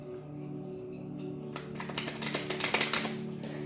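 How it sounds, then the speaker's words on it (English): Circular tarot cards being shuffled by hand, a soft riffling patter of card edges that starts quiet and builds into quick, close flutters over steady background music. "these are a bit difficult to shuffle because they're circular"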